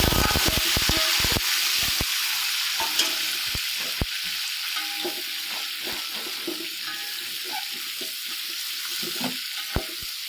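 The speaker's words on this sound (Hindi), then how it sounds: "अब हम गोश्त को फ्राई करके निकाल लेंगे" Meat frying in a pan for chicken yakhni pulao, a steady close sizzle broken by frequent sharp scrapes and clicks of stirring, with a brief watery splash early on; no one speaks.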